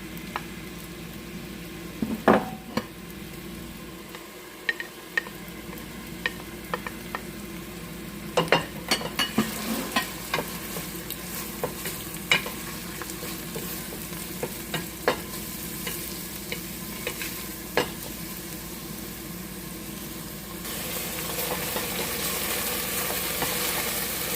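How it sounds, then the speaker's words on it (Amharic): Onion and garlic fry together in hot oil with a steady close sizzle, broken by occasional sharp clicks and scrapes of stirring, and the frying grows a little louder toward the end. "ዘይቱ ሞቅ ሲልልን ሽንኩርቱንና ነጭ ሽንኩርቱን አንድ ላይ ጨምረን እናበስለዋለን።"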